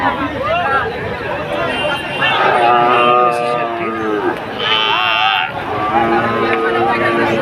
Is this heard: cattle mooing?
yes